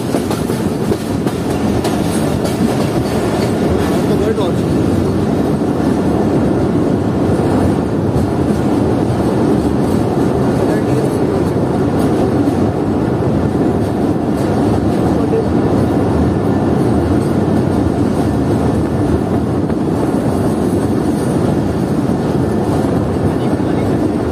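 The Jaffer Express crossing the Lansdowne Bridge at night, a loud continuous rumble and rattle of the moving train heard from inside, steady throughout with no breaks.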